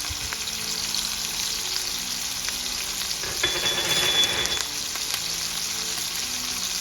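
Garlic pieces and thyme sizzle in a hot pan alongside a searing ribeye steak, a steady close frying hiss that swells briefly midway as the pan is stirred, no voices.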